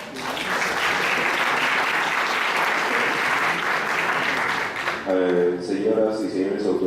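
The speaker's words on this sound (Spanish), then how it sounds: "Un aplauso para el doctor, por favor" An auditorium audience at a university law panel applauds steadily for several seconds; the clapping then gives way to a voice speaking over the fading applause.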